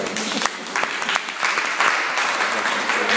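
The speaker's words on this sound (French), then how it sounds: "On va s'applaudir" An audience claps at the close of a talk at the Mercier & Associés gallery, with dense, sustained applause, fairly close and loud, carrying on throughout with little speech.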